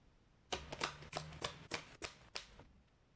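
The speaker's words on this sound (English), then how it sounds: "Let's pull up another set of cards." Oracle cards are shuffled for a reading, a close, quiet run of about eight crisp riffling bursts in a quick, uneven rhythm, with no talking.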